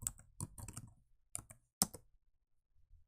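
Computer keyboard typing during medical coding software use: a few short bursts of key clicks with pauses between them, close and fairly quiet, no talk.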